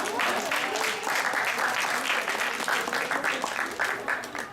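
A hall audience at an academic English program event held at a hotel claps steadily, the applause fairly loud and continuous before tapering off slightly at the end, with faint voices mixed in.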